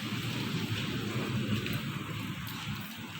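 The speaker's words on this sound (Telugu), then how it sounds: "ఇంకా వర్షం పడుతుంది" Steady rain falls outside a house during a downpour, a constant hissing patter with a faint low rumble underneath and no voices.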